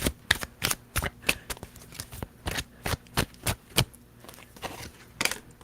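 Tarot cards are shuffled close by in quick, crisp riffles and slaps, a dozen or more sharp bursts with short pauses between, over a quiet background.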